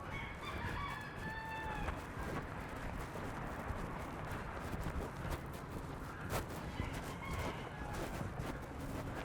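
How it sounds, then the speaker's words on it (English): Roosters crow on a street in Little Havana, Miami, the calls thin and distant in the first couple of seconds and again near the end, under a steady wash of traffic and city noise. "Look, more Rogue roosters."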